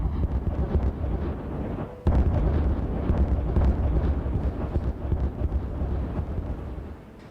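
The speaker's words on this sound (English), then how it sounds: "That was a nice boom." A loud detonation explosion in the game Timberborn, a deep booming blast that surges at about two seconds and then rolls on as a long rumbling roar before fading slightly at the end.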